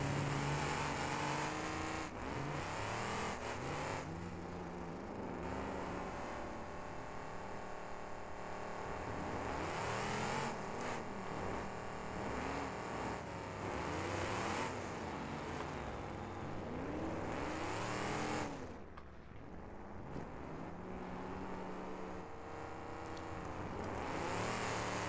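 A 1987 Crown Victoria derby car with limited welds, its engine revving hard at full throttle, rising and falling whines under load, close and loud and sustained throughout, with a brief dip near the end.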